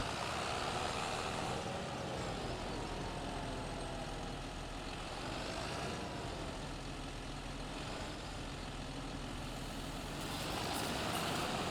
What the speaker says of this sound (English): I'll see if I can put this tractor into this shed or not.